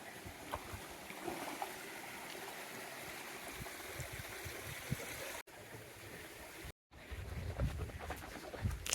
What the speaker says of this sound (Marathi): भरपूर पाऊस आला तर पाणी सुटलाय.